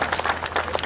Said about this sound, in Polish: oklaski, bardzo dziękuję